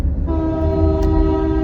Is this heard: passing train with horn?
yes